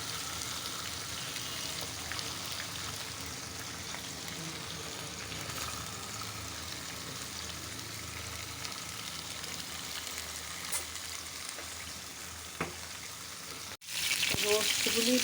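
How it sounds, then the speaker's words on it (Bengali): Pieces of roasted chicken fry in a frying pan, a steady close sizzle that continues for many seconds, with a clatter near the end and no talk over it. "রোস্টগুলি এখন অল্প অল্প করে ফ্রাই প্যানে ভেজে নিব।"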